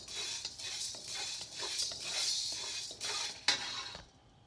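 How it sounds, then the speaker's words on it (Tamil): Black pepper, coriander seeds and dry ginger dry-roasting in a pan crackle and pop under repeated stirring and scraping of a utensil against metal, close and fairly loud before a sudden fade. "மிளகு வந்து நல்லா பொரியுது பாருங்கள், அந்த பொரியிற மாதிரி வரணும்"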